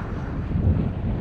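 Wind gusts across a microphone aboard a sailboat under sail at sea off Ostia, Italy, a steady close rumbling buffet with faint water motion beneath and no talking.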